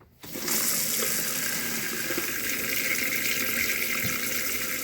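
Steady, loud rush of water running from the shower of a Holiday Rumbler RV during de-winterizing, starting abruptly after a brief quiet moment and continuing unbroken; no talking.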